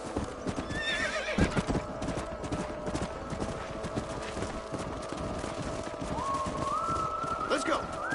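Horses whinny and hooves clip-clop steadily throughout in Red Dead Redemption, with a rising neigh near the end over a busy background of voices and movement.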